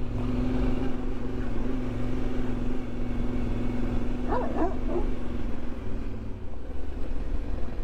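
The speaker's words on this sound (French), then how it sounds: "Alors il y a des chiens là, ils sont enfermés, et c'est tant mieux parce qu'ils n'ont pas l'air très accueillants." A few short dog barks from animals shut in an enclosure in a village, brief and partly masked by the loud, steady drone of an off-road vehicle engine running throughout.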